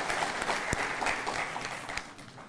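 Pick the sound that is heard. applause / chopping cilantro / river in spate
applause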